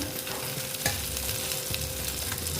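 Koi fish frying crisp in oil for a Bengali-style curry, a close, continuous sizzle and crackle with the fish stirred in the pan and a soft knock near the start, and no talk.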